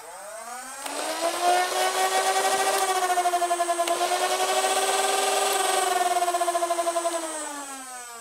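Foam blaster flywheel motors spool up to a rising whine that then holds steady, with a fast pulsing beat as the pusher engages, loud and close before winding down at the end.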